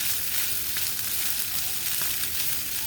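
Diced onion and minced garlic frying in a pan, a dense, steady, close sizzle with faint stirring, no voices.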